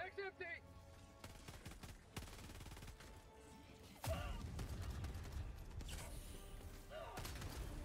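An autocannon fires in Helldivers 2 with heavy, spaced booming shots amid scattered battle noise and mechanical clatter, loud and near, while a voice talks over the action.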